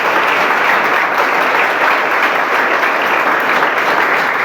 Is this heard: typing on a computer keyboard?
no